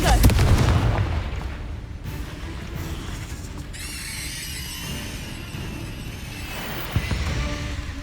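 Confringo spell blasts in Hogwarts Legacy, a loud burst at the start trailing into a rumbling roar, with further booms and pops later and a voice calling out over the action.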